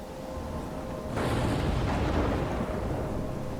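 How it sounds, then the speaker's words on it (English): Stormy weather in the game Life Is Strange: a steady roar of wind and rain swells into a deep rolling rumble of thunder near the midpoint, then keeps grumbling without easing back. "I'm trapped in a storm?"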